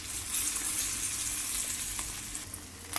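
Mandeli fish frying in a pan on their second side, a steady, close crackling sizzle with faint spatters and no talking.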